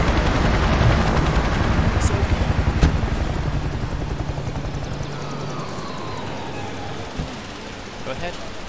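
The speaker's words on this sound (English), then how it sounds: "So the helicopter lands." Helicopter landing in the Emergency 4 firefighting and EMS video game, a steady loud rotor drone and chop running throughout with game effects mixed in and a person talking over it.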